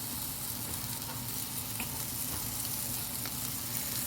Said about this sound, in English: Now I'm gonna add the tomato.